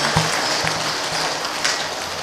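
An audience claps at a kirtan during a Kartiki Wari gathering: a dense, steady patter of many hands, with soft regular low thumps pulsing beneath it.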